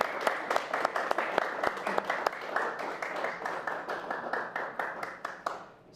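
A small live audience at a winter music session applauds, fairly quiet, with distinct individual claps standing out in a loose, fading rhythm.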